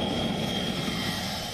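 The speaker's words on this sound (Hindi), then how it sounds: "ये विशालकाय C-17 ग्लोब मास्टर विमान किसी भी चुनौती से निपट सकता है" A huge C-17 Globemaster military transport aircraft gives off a steady, loud engine roar that holds even and unbroken throughout, with no voices.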